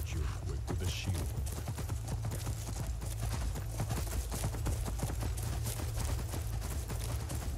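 Horse hooves in Skyrim clip-clop steadily at a brisk, even rhythm, continuous and close, with a voice talking over them.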